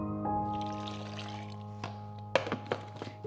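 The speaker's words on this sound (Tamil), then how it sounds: "தண்ணி ஊற்றிக்கலாம்." Water pours briefly into a blender jar holding snap melon and honey, a soft trickle followed by a few sharp thunks of the jar or its lid.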